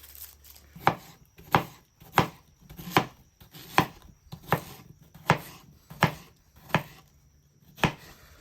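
A knife chops through an onion on a cutting board in about a dozen steady, evenly spaced strokes, each a sharp close thud with a crisp attack, heard on its own with no talking.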